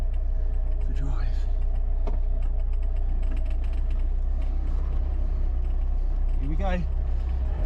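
A Rover P6 car is shifted into drive and pulls away, its engine a steady low rumble throughout with faint mechanical clicks, while people talk over it.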